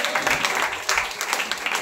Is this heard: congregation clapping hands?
yes